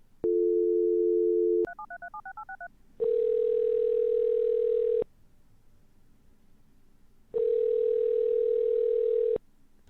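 A phone call in the video game OneShot plays a steady synthetic tone, then a quick burst of dialing beeps, then two long electronic ring tones separated by a pause of near silence, loud and clean with no voices.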